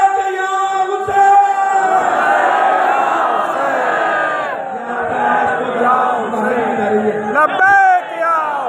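A large crowd chants the religious slogan "Labbaik ya Hussain" in unison, loud and close. The voices swell in repeated surges and rise again toward the end.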